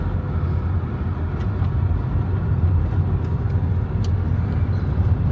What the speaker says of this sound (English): This car's letting us pass because it has no idea where it's going.